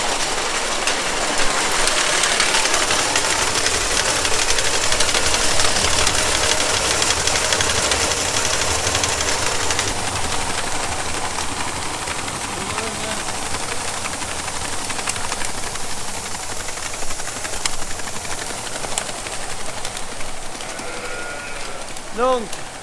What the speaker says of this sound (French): le grain dans la benne qui va tomber dans un baquet repris par les vis pour le monter là-haut dans les deux cellules